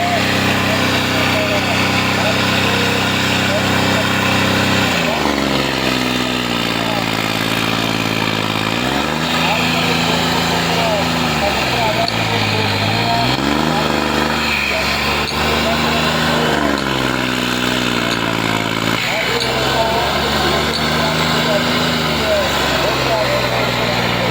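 A tractor engine runs at a trolley-pulling contest in Matti, Mansa, with a loud, steady diesel drone that rises and falls in pitch as it labours. Voices talk over it throughout.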